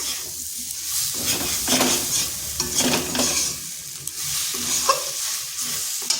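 Okra frying in a pan with egg stirred through it, a steady close sizzle broken by repeated scraping stirring strokes throughout, with no talking.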